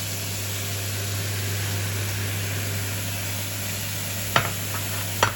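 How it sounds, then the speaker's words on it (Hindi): Minced meat keema sizzles in a hot pan, a steady loud frying hiss throughout, with two brief clanks of a utensil near the end. "अब इस स्टेज पे मैं इसके अंदर कीमा डाल दूँगी।"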